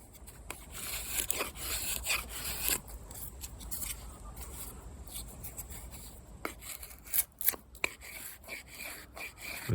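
Condor Terrasaur knife with a custom convex 1095 steel grind carving feather sticks from wood, a run of close, soft scraping and shaving strokes with brief sharper rasps between them.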